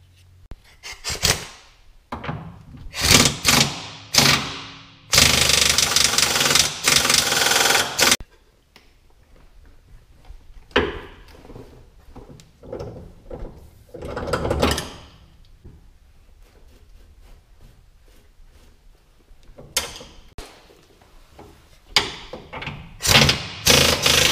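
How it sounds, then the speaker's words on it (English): Factory shackle bolts being removed from a Silverado pickup, heard as a series of loud metallic clanks and tool bursts with a sustained harsh rattle in the middle, separated by quieter pauses, with no talking. "we're gonna take the bottom bolt out first and then lift it up, hopefully slide the top bolt out"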